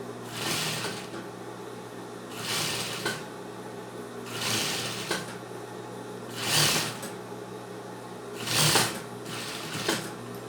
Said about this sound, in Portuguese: Vou montar, costurar os recortes